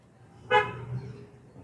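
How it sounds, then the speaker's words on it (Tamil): One short car horn toot, loud and close, on a hairpin bend, followed by a low engine hum. "ஒரு தடவை ஹார்ன் அடிச்சுட்டு"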